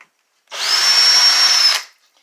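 Power drill boring a pocket hole through wood with a Kreg jig and stop collar: one close, loud whine lasting about a second, alone without talk.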